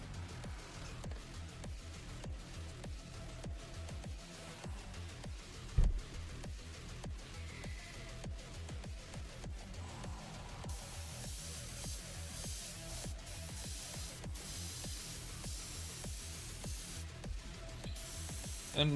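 Continuous hissing bursts of an aerosol spray can laying a clear coat onto the main body of a Moderoid ED-209 plastic model, close and steady, with short pauses and a louder broadband stretch toward the end.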